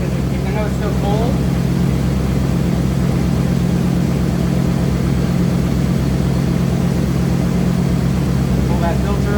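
A cold 1987 Dodge D100 pickup engine idles steadily, loud and close, with a constant low rumble throughout and no clear revving.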